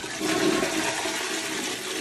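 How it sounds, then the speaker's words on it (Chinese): A wall-hung toilet flushes in one short, loud, continuous surge of rushing water heard up close. "看一下冲水的效果"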